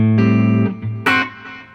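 An electric guitar played through a Boss Katana amp with delay and reverb rings out loud, a held chord followed by a second strum whose echoes trail away and decay alone.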